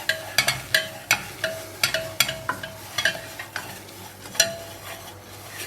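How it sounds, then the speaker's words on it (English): A wooden spatula stirs flour into softened, lightly caramelizing onions for a roux in a pan, with repeated sharp scrapes and taps against the pan over a soft low sizzle, close up with no talking. "So now I'm going to stir in my flour, and this will turn into a roux here."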